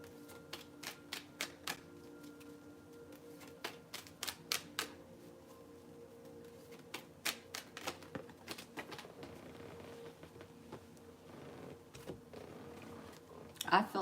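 Tarot cards being shuffled and drawn, making bursts of crisp clicking and flicking at close range that come in clusters with short pauses, over a low steady background hum.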